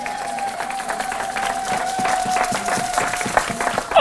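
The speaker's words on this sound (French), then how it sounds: "Acclame la parole du Seigneur." A church congregation applauds and cheers after a Bible reading: a sustained wash of clapping that swells and holds for several seconds, with voices mixed into the crowd noise.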